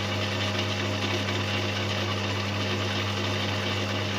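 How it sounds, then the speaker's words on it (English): A metal lathe takes a cut on a steel sprocket spacer sleeve for a BSA Bantam motorcycle, giving a steady, continuous whirring hum at constant loudness with no voices. "I'm just going to take another cut of this setting just to just take some of the spring out of it."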